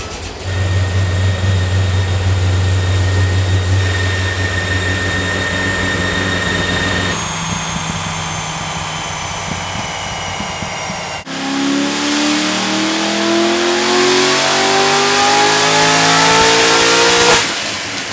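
A stage 3 car with an LS7 engine roars through a full dyno pull, the exhaust note climbing steadily in pitch and loudness before cutting off abruptly, with no talk over it.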